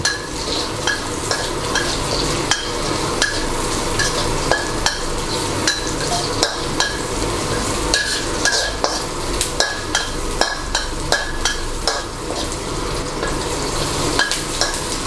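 Onion and pineapple stir-fried in a hot pan for sweet-and-sour sea bass, with a steady loud sizzle and repeated sharp scrapes and taps of a spatula against the pan at an uneven rhythm, with no talking.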